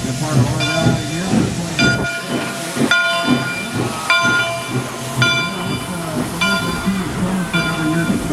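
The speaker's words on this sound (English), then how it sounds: "He makes the fire to make the steam, so the train can have lots of steam up and down the track." Kettle Valley Railway steam locomotive 3716 in the Okanagan Valley hisses loudly and steadily up close, with repeated whistle-like tonal bursts riding over the continuous rush of steam.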